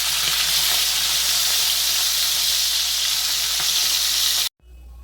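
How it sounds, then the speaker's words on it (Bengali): Fish heads fry golden in hot oil with a loud, steady sizzle and faint crackles that cut off abruptly near the end, with no voices. "আর একটা পিস উল্টে উল্টে ভালো করে সুন্দর করে গোল্ডেন করে ভেজে নিচ্ছি"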